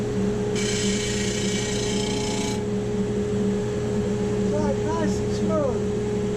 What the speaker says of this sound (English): Sand one side smooth.